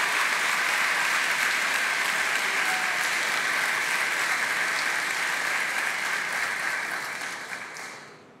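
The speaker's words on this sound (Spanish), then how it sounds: "Por si no se escuchó por los aplausos" Sustained applause fills the Argentine Congress during a speech by Milei, a dense steady wash of clapping from a large audience that fades out at the end, with no voices over it.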